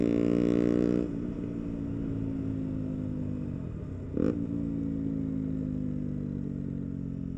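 A 125cc motorcycle with its catalytic converter removed and a straight pipe fitted runs steadily and close up, its loud raspy drone holding level apart from a short throttle blip partway through.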